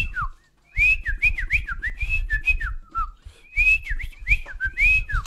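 Close, bright human whistling recorded for an amapiano beat in FL Studio: quick repeated rising and falling phrases with short gaps, over a low, pulsing bass-heavy thump underneath, no talking.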